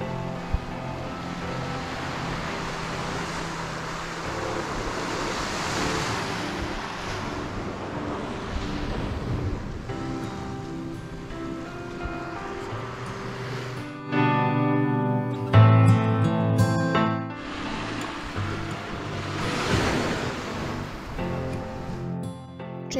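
Waves wash onto a long beach near Gokarna in Karnataka, a steady rolling surf roar mixed with gusts of wind buffeting the microphone.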